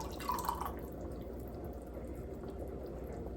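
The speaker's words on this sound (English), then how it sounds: "I'm going to come in with my ladle, and I'm going to get a ladle full." Hot pot roast cooking liquid ladled up for Cajun gravy, with a brief wet splashing and dripping near the start, then a low steady background hum for the rest.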